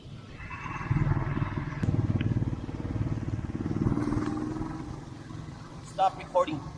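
A motorcycle engine drones steadily while riding, with its pitch rising and falling slightly as it moves, recorded close by against a rushing background.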